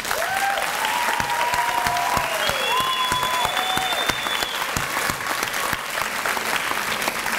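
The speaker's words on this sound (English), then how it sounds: "Please join me in giving this remarkable group of educators a round of applause." A graduation audience applauds a group of educators, sustained loud clapping from a large crowd throughout, with some scattered whoops and whistles rising above it.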